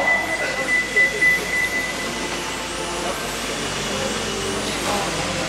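Brushless RC touring cars launch off the grid together in a Yokomo Grand Prix B-Main, a dense high-pitched whine of many electric motors at once, with an announcer's voice heard over the top.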